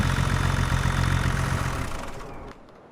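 A tractor engine idles in Farming Simulator 25 with a steady low rumble that fades and thins out toward the end, with no one talking.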